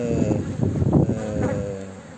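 Honeybees drone steadily at an open hive during a beekeeping inspection, a dense, close buzzing hum that keeps up throughout.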